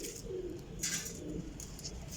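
Cross-bred performance pigeons coo softly nearby in a short burst of low, throaty calls, with faint rustling around them and no talk.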